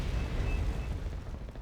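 A Soviet airborne missile barrage in Wargame Red Dragon sounds as a heavy, rumbling wall of explosions. Low booms roll into one another and fade out over under two seconds.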